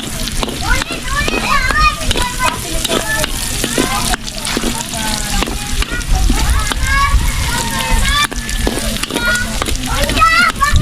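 Garlic frying in a pan until golden brown, a continuous loud sizzle with stirring clatter, under frequent chatter from adults and children nearby.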